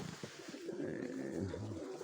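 Old pigeons cooing softly and continuously in a loft in Chornobaivka near Mykolaiv, low murmuring calls under a steady background hiss.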